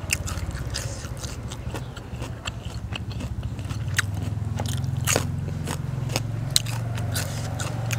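Crisp bites into raw bitter gourd, a sequence of sharp crunches with chewing between them, heard close up alongside a seafood meal of stuffed squid with spicy dipping sauce.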